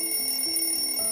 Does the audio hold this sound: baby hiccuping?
no